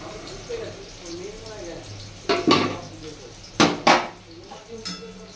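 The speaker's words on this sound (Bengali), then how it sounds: "এবার আমি কলার বড়া করে রেখেছি সেটা দিয়ে দেবো আস্তে আস্তে" Banana fritters are lowered into a pot of boiled potatoes, giving a few sharp clinks and splashy knocks against the pot while a voice keeps talking throughout.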